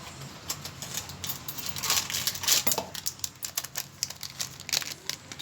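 Spices and a potato mixture being mixed by hand in a bowl for masala potato bonda: soft, irregular clicking and crinkling taps, faint and close, with no talking.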